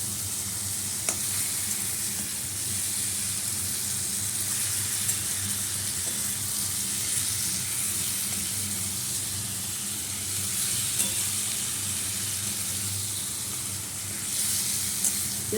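Magur catfish fries in a pan with a steady, dense sizzle and hiss that runs unbroken the whole time, close and fairly loud, with a low cooking rumble underneath and no voices.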